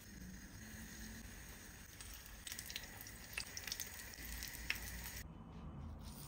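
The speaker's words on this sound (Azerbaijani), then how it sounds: "Qızğın yağda bükmələri hər tərəfli qızardırıq." Rolled pastries fry in hot oil in a pan, giving a soft, steady sizzle with a few brief crackles and pops, faint and close with no voices.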